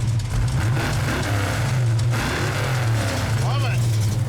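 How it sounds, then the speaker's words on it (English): A big-block Mopar V8 idles with a deep, loud, lumpy rumble after firing up, the pulsing low exhaust note holding steady while people talk nearby. "The car sounds awesome when it fires up."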